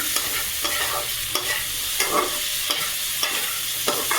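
Pond tilapia fish frying in oil with eggplant and potato, a steady close sizzle with periodic stirring scrapes of a spatula in the pan, no voices.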